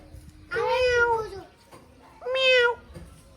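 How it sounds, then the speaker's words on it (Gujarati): Two clear meows from a mother cat with kittens, the first longer and drawn out, the second shorter after a pause, close by over faint background noise. "હવે બિલાડી એના બચ્ચા લઈને આવી છે"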